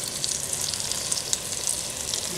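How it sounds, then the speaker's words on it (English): Steady high crackling sizzle of Italian sausages cooking in an air fryer, continuous and fairly close, with faint pops scattered throughout and no voices. "Ooh, I can hear them sizzling."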